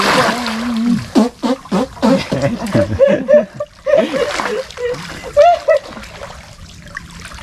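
Water splashes while someone swims in cold water during a crab and fish catch, with choppy splashes in bursts under lively talking and laughter from people nearby.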